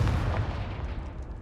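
A Confringo blasting spell explodes in Hogwarts Legacy, a loud, deep boom that rumbles and fades over about a second and a half with no voice over it.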